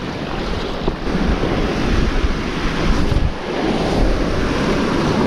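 Strong wind buffeting a microphone on a winter coastline while bass fishing with lures, a loud continuous roar with surf-like swells, no voices.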